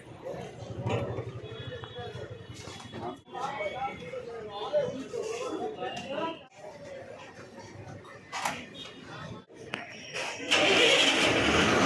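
A new BS6 bus engine turns over and starts with a mid-pitched rumble before reversing, on a Coimbatore to Munnar route, with people talking over it and a louder noisy burst near the end.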